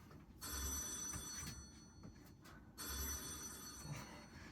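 A telephone rings on stage during a student one-act ghost play, two long electric bell bursts separated by a pause, clear and moderately loud in the hall with faint room noise between.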